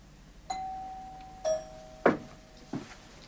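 A doorbell rings in a 1981 British TV comedy: a clear electronic chime with a sustained tone, followed by two more sharp chimes and a softer last one, loud and close in an otherwise quiet room.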